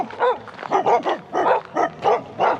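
A dog barks in a rapid, irregular series of sharp yaps and woofs, close and loud, heard along an evening trail during a 100-mile ultramarathon on the North Downs Way.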